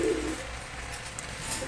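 A pair of pigeons coos softly, a short low murmuring call near the start, with faint background noise following and no talking.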